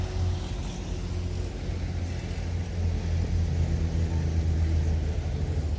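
A car ferry's engines rumble low and steadily through the crossing, a continuous drone that grows slightly stronger partway through.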